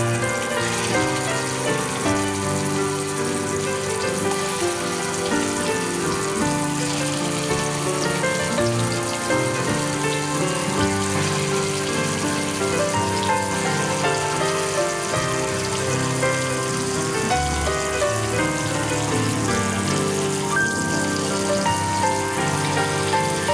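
Dried mackerel pieces frying in hot oil in a pan, making a continuous, loud, even sizzle and crackle that carries on without a break.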